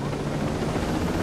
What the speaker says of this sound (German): Ich schnapp mir jetzt den Heli.